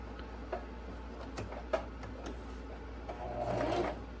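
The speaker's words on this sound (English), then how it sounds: "So you just want to back stitch from the very edge and sew down, back stitching up until exactly where that seam begins" A sewing machine back stitching face mask fabric, a steady low motor hum with light ticking from the needle and a brief buildup of mechanical whir toward the end, close and fairly quiet, no talking.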